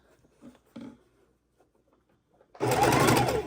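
Quilt panel pieces for a queen size quilt are handled with a few soft rustles, then a sewing machine starts up and stitches in a loud, fast, steady run for the last second.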